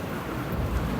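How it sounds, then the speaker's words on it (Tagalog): Thunder rumbling during Typhoon Kristine, a low continuous roll mixed with heavy rain on surfaces, loud and close with no talk over it. "Narinig niyo siguro yung kulog"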